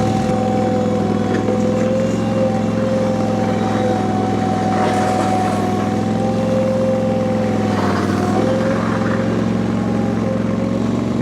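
A CFG HR230 V-twin three-wheeled rear-steer compact loader being driven, its engine running steadily and loudly throughout with a constant droning hum and a slight shift in pitch near the end; no talking.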